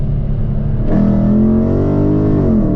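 A Dodge Scat Pack revs hard in its lowest gear, the engine note climbing loud and close after a brief idle, a steady rising roar with no talk.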